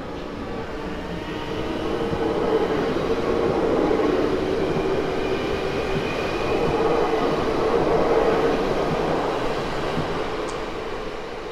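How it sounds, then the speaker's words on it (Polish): A Koleje Małopolskie regional train departs Kraków Główny for Miechów, its rumble and rolling wheels building steadily and holding loud and near before easing slightly toward the end. "Rusza skład kolei małopolskich do Miechowa."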